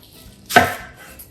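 A single sharp knife chop through food while preparing steak fajitas, one crisp close stroke against a board, otherwise quiet.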